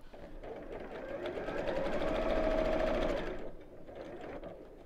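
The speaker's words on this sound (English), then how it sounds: "I'm now sewing about 1/8 of an inch from the edge" A sewing machine stitches close along a fabric edge while making a drawstring pyjama bag, a steady buzzing whir that rises and eases back, fairly faint and continuous, with no talk.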